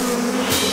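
Bees buzz steadily near a hive, a close, continuous droning hum with no pauses through the short stretch.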